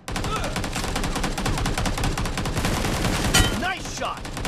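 Dense, continuous gunfire rattles through a video game match, a steady stream of close rapid shots with a sharper burst near the end and game sounds underneath.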